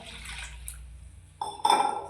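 A cup of water poured into a bowl for a semolina and yogurt dish, a short splashy pour in the last half-second after near silence, close and fairly quiet.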